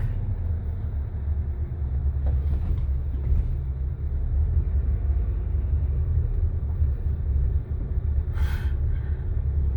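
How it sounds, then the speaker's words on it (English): A gasoline pickup truck's engine gives a steady, deep, rough rumble close by, sounding like a small diesel, with a brief faint hiss near the end. "This truck sounds like a small diesel."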